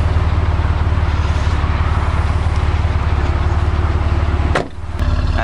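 A 1999 Buick Century with stock exhaust idles close by, a steady low rhythmic rumble that dips briefly near the end with a short knock before the idle resumes.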